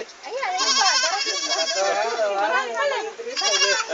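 A goat bleats loudly and almost continuously nearby, its wavering, quavering cries rising and falling over several seconds with brief pauses.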